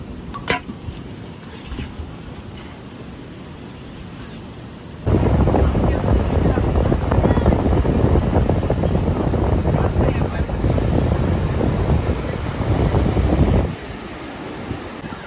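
Strong sea wind at Tajpur beach buffeting the microphone in a loud roaring gust that swells midway and holds before easing, with surf-like wash underneath.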